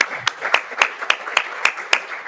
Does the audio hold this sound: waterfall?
no